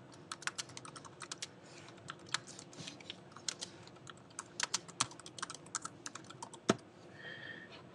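Keys clatter on a computer keyboard as a form title is typed, a close, brisk run of uneven clicks with short pauses and one sharper tap near the end, no voices.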